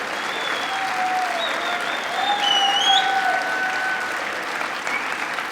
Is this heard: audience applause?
yes